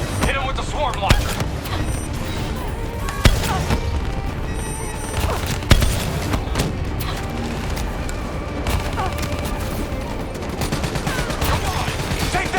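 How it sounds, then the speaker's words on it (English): Rapid, dense bursts of explosions and gunfire from a swarm launcher in the Call of Duty: Black Ops III campaign, loud and continuous with sharp booming impacts layered over battle noise and shouted voices. "Hit him with the swarm launcher."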